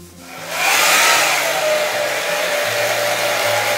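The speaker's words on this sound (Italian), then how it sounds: "asciughiamo bene i capelli" A hair dryer blows loudly and steadily up close, drying a doll's hair after a bath, holding a constant whooshing roar with no talk over it.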